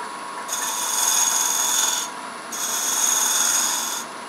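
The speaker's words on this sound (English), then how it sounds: "I'm going to just do kind of a pull cut here, a little bit of a scrape on the inside to bring this to more of a knife edge" A wood lathe tool scrapes the inside of a goblet bowl in a pull cut, giving two steady rasping passes of about one and a half seconds each, separated by a short pause, close and fairly soft.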